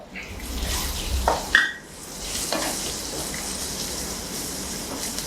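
Chopped garlic sizzles with onions in a pan. A few clatters and stirring scrapes come early, then a steady frying hiss continues to the end.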